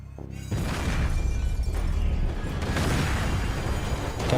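A sustained, loud rumbling boom from an explosion in the video game Max Payne 3 erupts after a brief quiet start and rolls on for several seconds with no speech.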